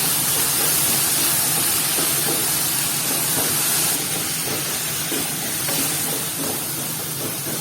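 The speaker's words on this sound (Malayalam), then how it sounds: "അങ്ങനെ നമ്മുടെ ഉള്ളി വഴന്ന് വന്നിട്ടുണ്ട്" Chopped onions sauté with pink salt in a pan, giving a dense, continuous loud hiss and sizzle that carries on unbroken with no talking.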